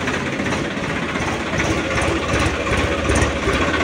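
New 2024 Swaraj 855 Special Edition tractor engine running steadily, a dense, rough, close mechanical rumble with constant loudness and no talking.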